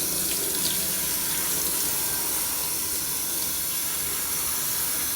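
Tap water runs in a steady, even hiss as shampoo is rinsed out of hair, close and constant with no pauses or voices.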